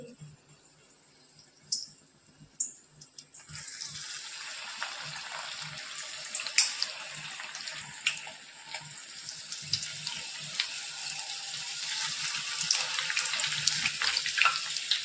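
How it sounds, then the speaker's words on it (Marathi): Soybean chunks dropped one by one into hot oil over a low-to-medium flame set off a bright, hissing sizzle that swells after a few seconds and keeps building, with scattered small pops and clatter. "त्यात आपण एक एक करून सोयाबीन टाकून घेऊ"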